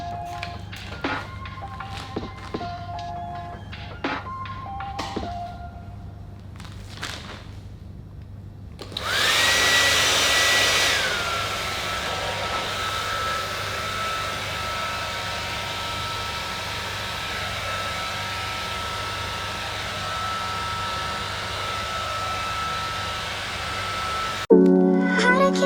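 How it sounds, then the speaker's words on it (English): A hair dryer whirs on loudly after a few quiet taps and clicks, then runs in a steady airy roar for about fifteen seconds before stopping abruptly. "It's blow dryer time."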